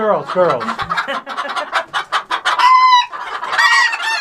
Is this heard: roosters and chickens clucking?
yes